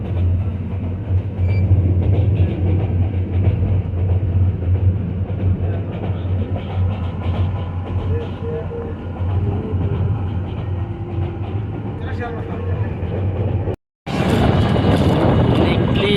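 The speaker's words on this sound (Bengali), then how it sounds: "হাওরের মাঝ দিয়ে আমাদের ট্রেন ছুটে চলেছে" A train runs through wetlands at dawn with a continuous low rumble and rattle of the carriages. Voices talk faintly over it, and a sharp cut near the end brings a louder, brighter burst.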